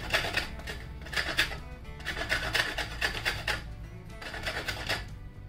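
Coconut flesh scraped on a grater, a steady rasping in repeated bursts with brief pauses between strokes, close and fairly loud with no talking.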